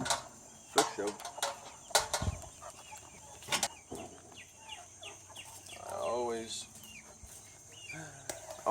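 Chickens clucking and calling inside a backyard chicken coop on a Texas property, with bursts of bird calls and a low rooster-like call around the middle, plus scattered knocks and rustling nearby.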